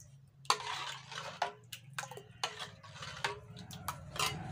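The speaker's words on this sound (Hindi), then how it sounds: "मैं नमक को इसमें मिला देती हूँ।" A spoon stirs salt into bathua and buttermilk raita in a bowl, making a series of light clinking taps and scrapes, close and quiet, with no talking.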